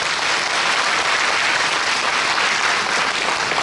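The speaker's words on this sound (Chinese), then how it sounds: "为我们的这些表演给我掌声鼓励一下好不好" An audience at a Taiwan Railway Labor Day ceremony honouring model workers applauds after a performance, a dense, even wash of clapping from many hands that carries on steadily throughout.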